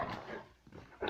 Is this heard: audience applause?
no